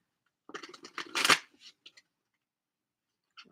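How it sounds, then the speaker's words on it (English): Tarot cards are shuffled in a quick riffling burst, followed by a few soft taps and a final card sound after a pause. "One more shuffle."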